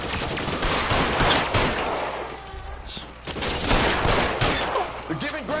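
Rapid bursts of gunfire in LA Noire Remastered, loud and dense like a volley or machine-gun fusillade, broken by a brief lull before more shots. Someone speaks over the firing.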